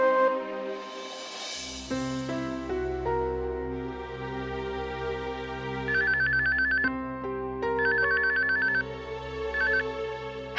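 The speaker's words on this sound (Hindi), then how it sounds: "गुंजन, इतनी रात गए आपका फोन?" A phone ringtone signals a late-night incoming call, its bright repeating electronic trill coming in short bursts over a bed of sustained dramatic music.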